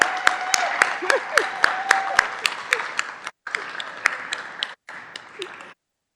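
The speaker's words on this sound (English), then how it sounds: "Let's give Sarah one more round of applause." An audience applauding at a Board of Aldermen meeting, sharp scattered claps in a room for several seconds, thinning out with brief pauses before stopping.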